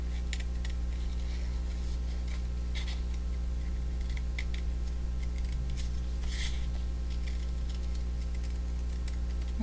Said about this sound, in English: if you move the paper as opposed to the scissors,